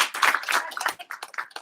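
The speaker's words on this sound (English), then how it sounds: "Simon Says, clap your hands." A group of people claps hands during a quick Simon Says energizer game at an education event, a loose spatter of claps over about a second and a half, fairly close and moderately loud.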